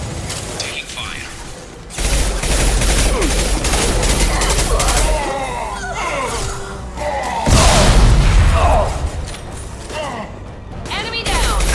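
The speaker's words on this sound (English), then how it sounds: "Taking fire." Rapid gunfire bursts and booming impacts from a firefight on Omega in Mass Effect 2, loud and dense with mechanical clatter, with brief voices heard between the shots.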